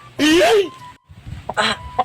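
A rooster being offered for sale gives a loud, close cluck-like call, followed by a few shorter, softer squawks, with a faint tone and light background noise between them.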